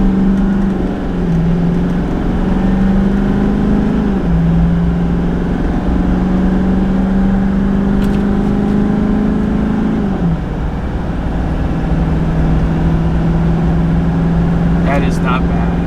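A heavy diesel engine of a high-mileage GMC Sierra 2500 Duramax pickup drones loudly as it accelerates while towing 10,000 pounds, pitch climbing steadily then dropping at gear shifts before climbing again.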